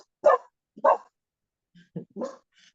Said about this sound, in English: He's an alert dog, meaning he's gonna bark, but then he gonna run too.